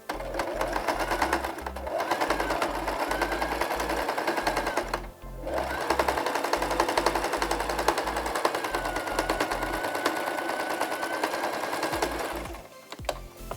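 A sewing machine stitching along a fabric edge runs in fast rhythmic bursts, loud and close, with a few short pauses between runs and no talk.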